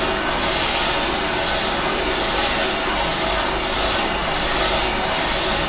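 A heating torch blasts a steady, loud, unbroken hiss and roar as it heats cracked metal near a bolt and flange.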